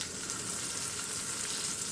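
Hot oil sizzles continuously and close by as a tempering of mustard seeds, curry leaves, chana dal, urad dal and dried red chillies is poured into raw mango chutney, a steady dense crackle with no talk.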